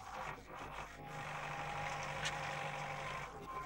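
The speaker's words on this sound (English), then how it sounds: "The earth is opened by the tractor's plow" A tractor's engine drones steadily while its plough opens the soil of a Spanish field in sowing season, a low, moderately distant rumble with faint higher sounds.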